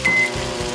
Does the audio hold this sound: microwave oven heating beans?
yes